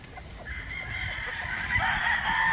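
A White Kelso gamefowl rooster at a game farm crows in a long rising call, with other fowl faintly clucking and general farmyard noise beneath.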